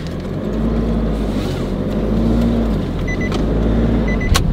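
A car pulls away and climbs a hill on a road near Daet in the Philippines, its engine a steady low drone with a faint rising hum, and a brief click near the end.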